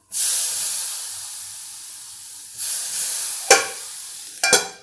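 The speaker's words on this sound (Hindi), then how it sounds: "एक पानी का छींटा देकर" A splash of water hits a hot pan of cooking green peas for samosa filling, bursting into loud steady sizzling and hissing, with a few sharper spurts toward the end and no voices.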